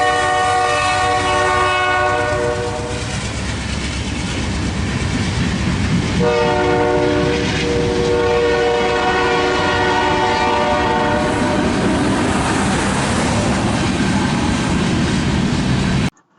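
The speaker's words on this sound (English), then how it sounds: "here's a sample of what the K5h sounds like" A Nathan K5H five-chime high-mount train air horn blares loud and close in long sustained chords, briefly dipping and restarting, over a rumbling train with rolling clickety-clack underneath.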